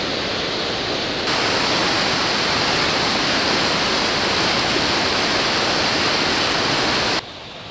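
A mountain river rushes along a valley in Kintrishi National Park in the Adjara mountains, a loud, steady broadband roar of flowing water that holds unbroken for several seconds.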